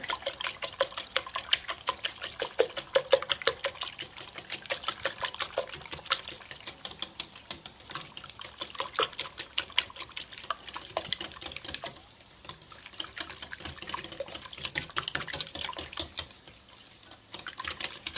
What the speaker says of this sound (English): 1/2 cup, 1/2 and 1/2. And let's whisk it together.